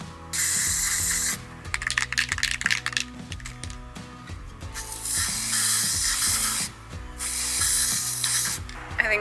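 Spray paint hisses from an aerosol can in several long bursts separated by short pauses, with clicking and rattling in between and steady music playing underneath.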